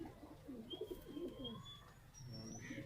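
A Teddy pigeon coos softly in a rooftop loft, with faint chirps over low background hum and no speech.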